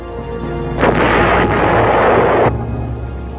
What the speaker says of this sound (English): Some bases, including Khe Sanh, also had powerful 155mm howitzers. They could lob a heavy shell over 9 miles